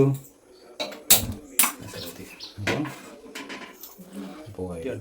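A metal cooking pan set down on a home stove, a few sharp clanks and knocks among other kitchen handling, with a person talking throughout.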